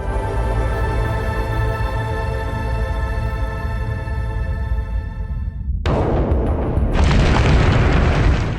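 A temporal force shock explosion in the video game Star Shift Rebellion, where a sustained humming tone cuts off into a loud, deep boom followed by a long rumbling roar, with no talk.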